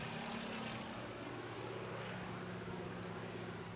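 A Fairey Swordfish biplane with its big Pegasus engine droning steadily as it flies at the Bournemouth Air Festival, a continuous broadband propeller roar at moderate, even level throughout.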